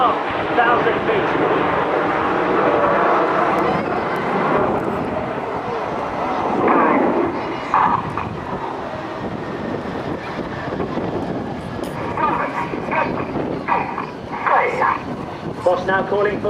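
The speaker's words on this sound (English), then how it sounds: "The aircraft rolling above us there at 400 miles an hour" RAF Red Arrows jets roll overhead at the 2008 AirPower Over Hampton Roads airshow, a broad, distant jet roar with wind buffeting, running continuously beneath an announcer's commentary.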